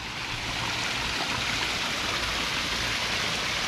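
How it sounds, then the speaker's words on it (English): A roughly four-foot waterfall pours into a backyard ecosystem pond, a loud, steady broadband rush of falling water with no pauses, heard up close and alone. "It's about a 4-foot waterfall right there."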